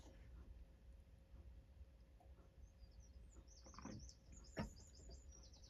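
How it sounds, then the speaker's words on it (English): Birds chirp and sing faintly in the distance at early-morning sunrise, short high tweets scattered over a steady low background hum, with one sharper call near the end. "It's been a lovely sunrise and the birds have been singing"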